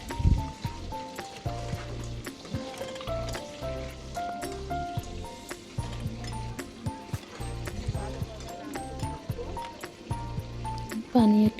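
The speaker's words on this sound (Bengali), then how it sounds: "5 কাপ পরিমাণ পানি অ্যাড করব।" Water is poured into ground urad dal in a bowl, a continuous splashing trickle close by, with a voice speaking over it.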